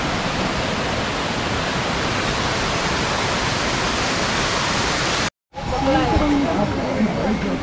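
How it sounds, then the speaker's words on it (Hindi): Waterfall on the mountain trek to Kedarnath Temple roars as a loud, steady wash of broadband water noise, cutting out briefly near the end before resuming with faint voices underneath. "झरना देखो गाइस।"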